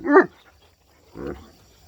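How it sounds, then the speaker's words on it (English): Spanish Mastiff puppies bark twice, a short close yelp followed about a second later by a softer second bark, with quiet between. "Spanish Mastiffs bark and talk and tattle is just hilarious"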